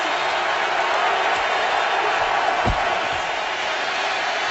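Stadium crowd at a 2013 Seahawks at Colts NFL game roaring in a dense, sustained wash of cheering that stays loud and even throughout, with a brief thud partway through.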